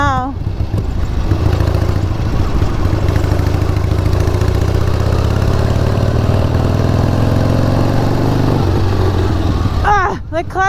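Harley-Davidson Sportster motorcycle engine running loud and steady throughout, a deep rumbling idle with rising and falling revs, recorded close up.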